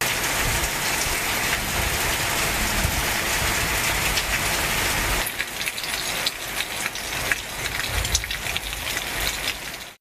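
Heavy monsoon rain pours down steadily in Vellore, Tamil Nadu, a loud dense hiss that continues for the full stretch, with a low engine idling faintly underneath.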